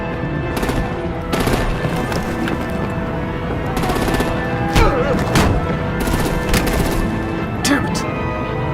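Artillery and automatic gunfire in the Batman Telltale game, loud rattling bursts and sharp booming shots that come in clusters throughout, with dialogue in the mix.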